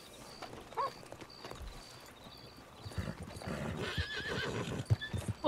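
Hooves clip-clop at a steady gallop in the Red Dead Redemption 2 video game, moderately faint at first and growing louder, with a horse neighing and snorting near the end.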